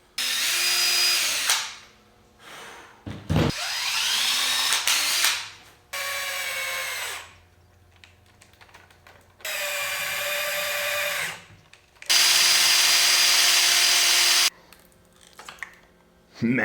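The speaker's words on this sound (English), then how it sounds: "let's line it up and drill the holes for the motor" Power drill whirring in several bursts of a few seconds each, drilling motor mounting holes on an RC truck build, close and loud, with pauses and brief clatter between runs.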